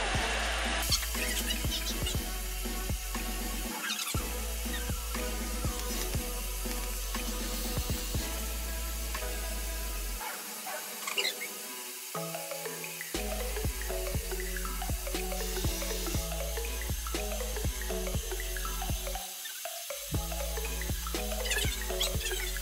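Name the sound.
water running while washing hair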